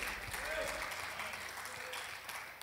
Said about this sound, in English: let's give the Lord a good clap offering today